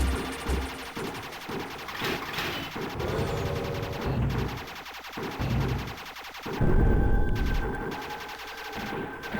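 Arcade shoot-'em-up action from Aero Fighters 3 (1995, Video System), with dense rapid gunfire, bursts of explosions and a busy game soundtrack rolling on continuously for several seconds.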